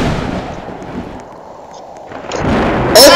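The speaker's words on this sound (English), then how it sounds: "I think we can survive this thunderstorm." Thunderstorm in the Roblox video game, a deep rolling rumble that fades and then swells again, ending in a sharp bright burst, no voices.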